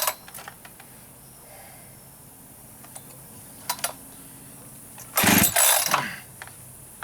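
A new Echo 620 chainsaw is pull-started for the first time. Quiet handling clicks lead up to a single loud rasping burst of about a second, which then fades into silence.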